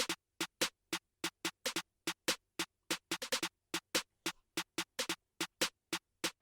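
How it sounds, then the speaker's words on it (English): Drill-beat snare pattern with a bouncy snare layered over a normal snare landing on beat three in double time, a dense run of bright, crisp hits with occasional quick flams, steady and up front with no voices. "Underneath that I added like a normal snare which hits on beat 3 because the beat's in double time"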